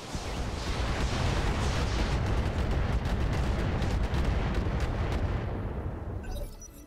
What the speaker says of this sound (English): Firing everything on this guy. All weapons are good.